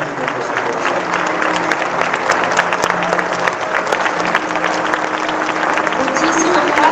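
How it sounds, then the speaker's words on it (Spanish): Steady, dense applause from a lecture audience, sustained and loud throughout with no pause, a broad crowd clatter of many hands clapping together. "ponemos de pie con un fuerte aplauso"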